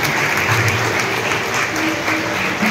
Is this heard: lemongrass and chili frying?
no